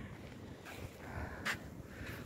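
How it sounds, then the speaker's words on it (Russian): Soft, steady winter wind noise rustles outdoors, with faint gusts and a brief sharper whoosh midway; quiet and distant. "Усилился ветер."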